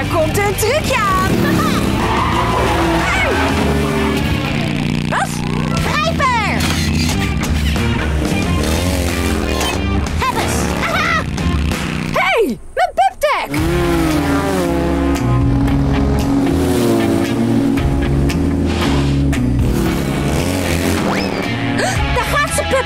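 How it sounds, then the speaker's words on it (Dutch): Cartoon racing car engine racket, revving and skidding with tire squeals, loud and continuous over busy music and voices, with a brief dropout midway. "Het is dus weer tijd om... Motorkabaal te maken!"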